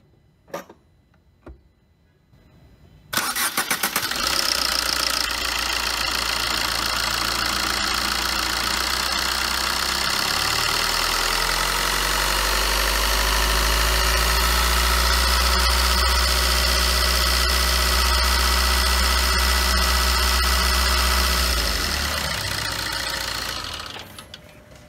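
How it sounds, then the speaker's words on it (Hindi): A 2017 Chevrolet Enjoy LTZ with a 1300cc TCDi common-rail diesel engine starts and settles into a loud, steady, slightly clattery idle that runs for about twenty seconds before cutting off. "1300 सीसी डीजल इंजन है ये"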